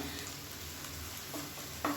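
Onions sautéing in hot oil for a potato and pea kurma give a steady, faint sizzle, with a few soft stirring clinks and a brief louder scrape near the end.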